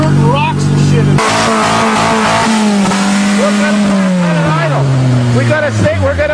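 A car engine roars and revs hard at close range, its pitch rising and falling steadily, with people talking loudly over it throughout, as it is run to destruction on a farm.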